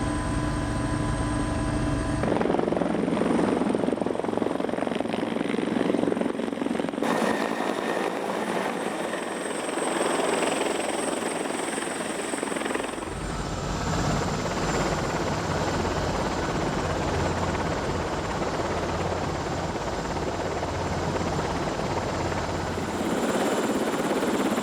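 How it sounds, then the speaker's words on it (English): A helicopter maneuvers to land on the deck platform of the Geo Challenger, a geophysical survey vessel at sea, its loud steady rotor and engine drone filling the whole passage with no talk. "The pilot's maneuvering so that we can land on the platform."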